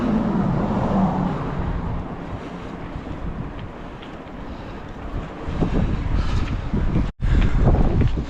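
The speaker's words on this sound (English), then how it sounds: "Windy out." Strong gusty wind buffets the microphone with a roar, with surging water and waves in the background, no talking.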